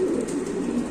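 Pigeons coo at a pigeon market, a soft steady low warbling murmur of several birds close by with no talk.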